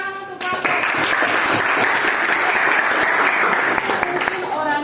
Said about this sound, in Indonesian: Oke, tepuk tangan untuk Bapak.